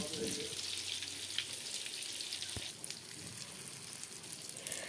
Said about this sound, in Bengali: এখন আমি আলুগুলো এভাবে ভেজে নিব, তারপরে রান্না করব।